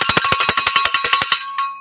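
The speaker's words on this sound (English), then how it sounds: "Here's the bell, and you can make your guesses once the bell rings" A bell rung to open a guessing round in a live game stream, struck in a rapid, even run of about a dozen loud ringing hits before a final single strike lets its tone hang and fade, with no talk over it.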